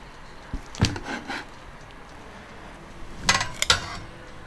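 A whole suckling pig is set onto oven racks and a baking tray, marked by a few clattering metal knocks and scrapes in two close bursts separated by a quiet pause.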